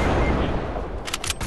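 A loud hunting rifle shot from a sniper in Fortnite booms out, followed by a few sharp echoing cracks.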